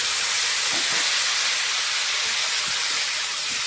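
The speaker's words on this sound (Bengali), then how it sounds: "মাছটা ভাজা হয়ে গেছে, তো এইগুলো একটু কষে নিচ্ছি।" Mustard, dried chili and onion paste fry with already-fried fish in a pan over low heat with a little oil, giving a steady, close, even hiss of sizzling that runs unbroken throughout.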